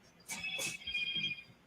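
A mobile phone rings briefly with a bright electronic tone, two quick bursts heard close but fairly quiet.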